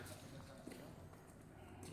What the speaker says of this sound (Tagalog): Ganda ng kabayo